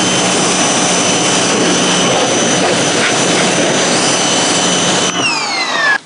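Westinghouse ePX3000 portable pressure washer spraying a car, a loud steady rushing hiss with a whining motor tone that runs unbroken for several seconds before briefly cutting and shifting near the end.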